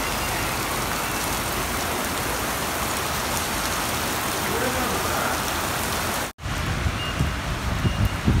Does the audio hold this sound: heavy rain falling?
yes